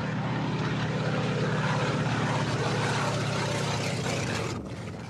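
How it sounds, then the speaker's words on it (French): A 1950s American propeller airplane spraying mosquito larvicide drones loudly and steadily overhead, its engine a thick, continuous roar that eases slightly at the end. "Des avions américains des années 50 épandent à chaque vol une solution qui ne cible"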